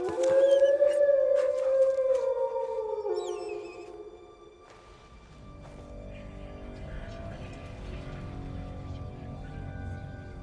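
Mutt, a dog in the video game Kingdom Come: Deliverance II, lets out a long drawn howl that slides downward and fades, followed by quieter rustling game ambience.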